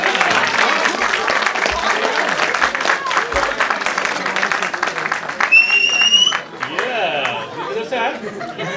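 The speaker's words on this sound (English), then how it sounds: "Clapping में कुछ जान नहीं है भाई." Audience clapping at a logistics talent competition's award announcement, a loud mass of hand claps mixed with crowd chatter and a few chuckles, with a short tonal sound cutting in near the end.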